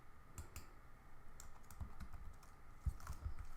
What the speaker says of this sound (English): I'm actually clicking Command P for the pen tool